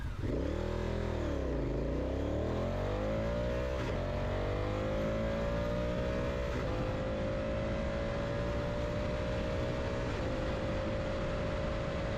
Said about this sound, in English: Now what most of us are really here for, the acceleration from standstill.